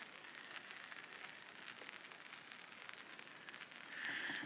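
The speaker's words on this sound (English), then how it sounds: "It is sprinkling. I'll be quiet and you can hear it." Light rain sprinkling onto a camp tarp at about 10,800 feet in the Uinta Mountains, a soft, steady patter of fine drops close by, with no voices.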